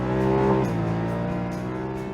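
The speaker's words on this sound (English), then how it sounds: "when you get on the gas and give it full throttle, it has a really throaty, aggressive intake sound that's really exciting." Honda Pioneer 1000 side-by-side with its 999cc engine at full throttle, a steady loud engine roar with strong harmonic tones, the pitch dipping slightly after a brief peak and holding near and continuous throughout.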